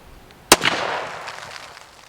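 A single sharp gunshot from a rifle firing a 55-grain full metal jacket round through glass, loud and close, followed by a ringing, fading decay.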